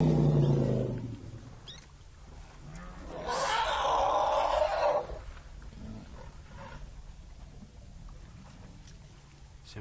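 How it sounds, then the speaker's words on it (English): Baby elephants in a large wild herd let out a loud trumpeting scream, a harsh roaring burst mid-clip over a rumbling outdoor background, with faint low calls around it. "It was the babies that were a bit confused as to where mom was in this chaos, and they started to scream"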